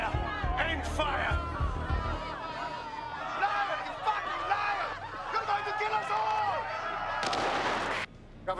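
Rapid bursts of gunfire in a Watch Dogs London video game firefight at a checkpoint, sharp reports clustered near the start and end, mixed with shouted voices and background game sound.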